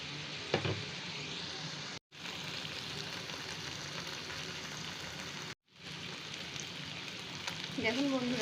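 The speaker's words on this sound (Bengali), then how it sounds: "আমি এই মশলাটাকে 2 থেকে 3 মিনিট কষে নেব।" Spice paste with a splash of water fries in oil for a Bengali tel koi fish dish, a continuous close sizzle and crackle with occasional stirring scrapes, briefly cut to silence twice.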